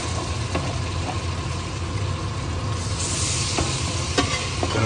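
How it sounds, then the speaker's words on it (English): Mutton being stirred with tomato passata in a sizzling pot, a steady frying hiss with soft scraping strokes of the spoon, close and continuous. "add that to it too. Gonna give it a good stir."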